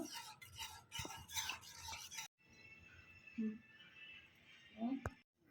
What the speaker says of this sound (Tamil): அந்த ஆடை வர்ற வரைக்கும் நல்லா திக்காக வர வரைக்கும் நம்ம கிண்டிகிட்டே இருப்போம்.